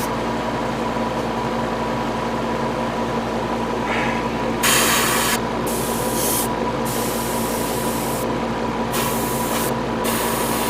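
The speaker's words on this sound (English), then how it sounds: "Clearly, using this airbrush is not the best." An airbrush spraying paint onto a Revell 1/72 scale model kit, a loud steady hiss of air that runs throughout, with brief bursts of brighter spray sputter near the end and no talking.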